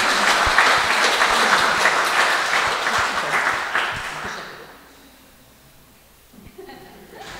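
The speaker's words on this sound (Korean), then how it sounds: "다시 한번 힘찬 박수로" A lecture audience at a mentoring class gives hearty applause, a loud, dense burst of clapping that holds for about four seconds and then dies away into near quiet with a few faint sounds.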